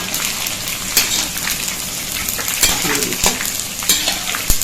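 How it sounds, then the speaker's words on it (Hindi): Edible gum (gond) roasts in a pan with a loud, crackling sizzle and intermittent stirring clicks throughout, no voices. "अब हम गोंद डालेंगे, थोड़ा थोड़ा करके भूनेंगे"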